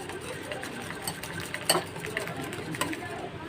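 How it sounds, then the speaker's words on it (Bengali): Eggs, sugar and chocolate being stirred together for a Cadbury cake batter, a soft continuous swishing with light scrapes and occasional utensil knocks against the bowl, fairly quiet and close. "কন্টিনিউ নাড়তে শুরু করব যতক্ষণ পর্যন্ত আমার ডিমের যে ডিম এবং চিনি এবং এই চকলেটটা না মেশে"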